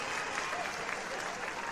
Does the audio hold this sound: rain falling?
no